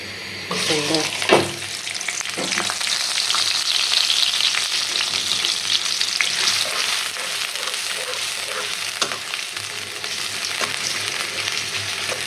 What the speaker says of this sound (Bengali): কড়াই তেল গরম হয়ে গেছে যে কি আমি দিয়ে দিতেছি